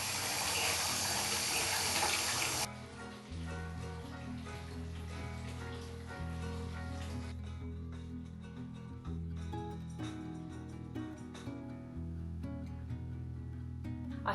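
Water runs steadily into a bath, first as a loud hissing rush, then as a softer, lower continuous flow under faint background sounds.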